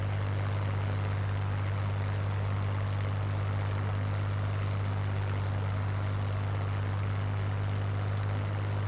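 A Spitfire L.F. Mk IXc piston engine holds 2650 RPM in Microsoft Flight Simulator, a constant heavy drone with a strong low hum and a hissy wash of propeller and wind noise, with no talk.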